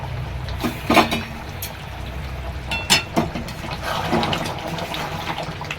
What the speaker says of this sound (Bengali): আমি এদিকে বাটিতে গরম জল বসিয়েছিলাম, এবার আমি ঢেলে দিচ্ছি।